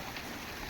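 Rain falls steadily at a farm, making a soft, even hiss of drops with no voices over it, faint and continuous throughout.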